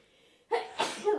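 A single loud, close human sneeze, a short intake followed by a forceful burst and a trailing second puff, heard alone in a quiet room during a podcast.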